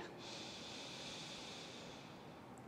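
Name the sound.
deep inhale during breathing exercise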